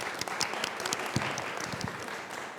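A roundtable audience claps together in a brief burst of dense, steady applause that tapers slightly toward the end.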